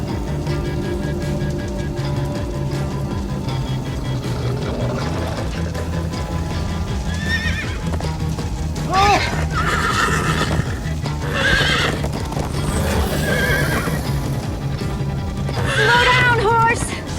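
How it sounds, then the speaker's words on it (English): Minecraft Story Mode game audio of a horse galloping and neighing: steady pounding hoofbeats with several shrill whinnies in the later half, set against a loud continuous action soundtrack. "Slow down, horse!"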